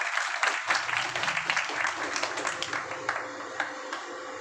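An audience at a Bhagwat Katha religious discourse applauds with soft, scattered clapping. The sound is moderately distant and fairly quiet, with uneven individual claps standing out over a low murmur of background noise.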